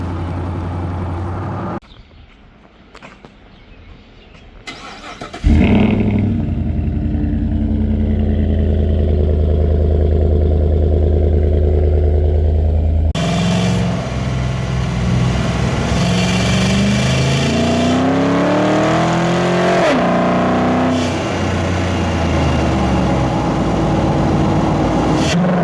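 A GMC Sierra pickup with a Flowmaster Outlaw exhaust and BBK shorty headers idles, then starts up and revs several times, loud and close, with deep rumbling blips rising and falling over a steady idle.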